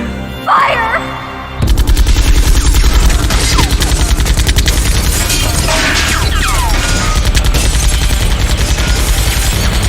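Sustained rapid gunfire from an attack in the video game Xenosaga Episode 2 bursts in after a short electronic chirp, a dense, loud machine-gun-like rattle with crashing impacts that continues to the end.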